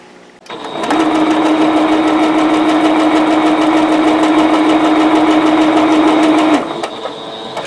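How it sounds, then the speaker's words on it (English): A sewing machine stitches quilt block fabric in one continuous rapid burst for about six seconds, loud and close, with a steady motor hum and fast rhythmic clatter. "So let's go to the sewing machine."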